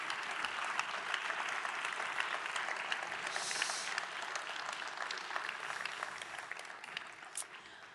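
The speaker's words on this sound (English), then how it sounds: "May I have a round of applause for Cédric Ringenbach." Steady applause from a sizable audience, dense and sustained clapping that holds at an even level throughout.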